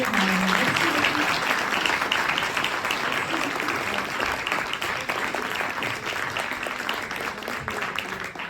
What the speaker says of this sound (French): vous pouvez remercier et applaudir